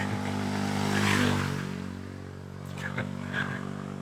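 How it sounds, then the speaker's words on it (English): A young lad rides a sporty motorcycle past on a rural road in Thailand, its engine a steady, fairly close hum that swells and then eases off. "A young lad on a sporty bike."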